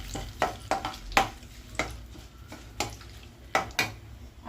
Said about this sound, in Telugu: కొంచెం ఫ్రై అవ్వాలి కరివేపాకు.